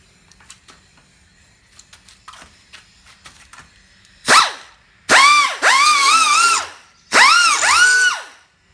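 A new Harbor Freight air tool sharpens a lawn mower blade in three loud, close bursts of high whirring, with the pitch dipping as it bites the steel edge. Faint handling clatter comes before the bursts.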